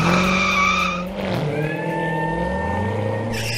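A Corvette revs with a strained, rising engine whine and tire squeal as it skids, the tone dipping briefly then climbing again in a continuous loud pass.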